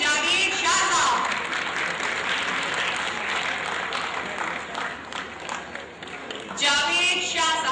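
Audience applause at a Pakistani award show as an honoree comes forward, a broad wash of clapping running steadily throughout, with a voice speaking over it near the start and again at the end.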